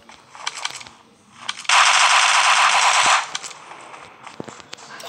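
Gunfire in PUBG: scattered distant shots, then a long rapid automatic burst lasting about a second and a half, followed by a few more isolated shots.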